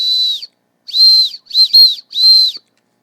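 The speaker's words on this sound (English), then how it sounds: "And then I have an emergency whistle." An emergency whistle from an everyday-carry keyring is blown in four shrill, piercing blasts, close and loud, with short gaps and one blast broken into quick double pulses.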